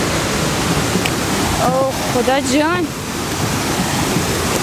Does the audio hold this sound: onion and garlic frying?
no